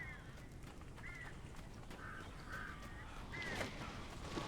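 Several short, faint cawing calls from birds in the Alan Wake video game, spaced irregularly over a low ambient hum, with a slightly louder call near the end.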